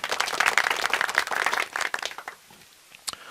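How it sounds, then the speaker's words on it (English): A recorded applause track for online meetings plays: a dense burst of many hands clapping that thins after about a second and a half into a few scattered claps and tails off. "realistic applause can only be done in a recording"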